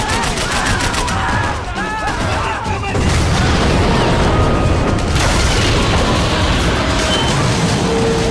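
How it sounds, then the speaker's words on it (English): Heavy gunfire and bullets whizzing past during a firefight in the video game Max Payne 3, with booming shots and dense overlapping bursts, loud and close, growing more intense partway through. "I can't concentrate with bullets whizzing past my head."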